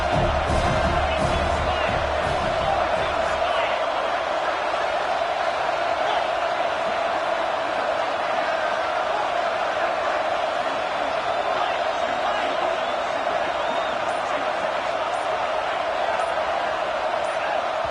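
Roaring stadium crowd in a college football video game, Fresno State against Purdue on a fourth down: a steady, dense wall of cheering and noise, loud and unbroken, with a brief thump near the start.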